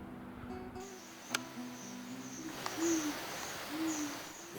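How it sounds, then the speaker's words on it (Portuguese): An owl hoots at night, several soft calls spread across a few seconds, set against a steady chorus of insects and crickets in the dark. "Enquanto eu escuto essa coruja piando"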